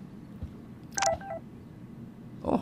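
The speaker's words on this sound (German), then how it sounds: "Oh, wir haben eine SMS von Mom." A short electronic text-message alert chimes once from the Life Is Strange video game, a bright two-part tone over quiet background hum, followed by a brief softer blip.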